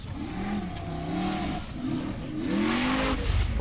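A Formula Offroad buggy at an Icelandic round in Egilsstadir roars at full throttle, its engine note climbing and dropping through repeated revs, loud and close for the whole stretch.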